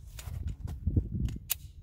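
A few sharp reports from a Glock 19C compensated pistol firing 124 grain +P Speer Gold Dot rounds, several quick cracks spread across a couple of seconds over low outdoor rumble.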